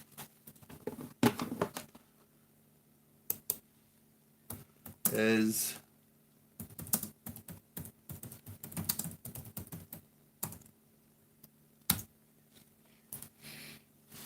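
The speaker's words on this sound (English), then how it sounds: "Let's try and type something on the keyboard." Keyboard typing in bursts of close clicking and tapping on a computer keyboard, with brief talk in between and a louder clatter partway through.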